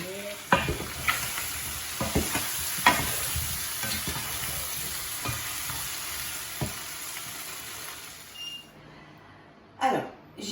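Onions, potatoes and mushrooms sizzle steadily in a pan, with a spoon knocking and scraping through them in irregular strokes up close, ending in a few sharper clatters.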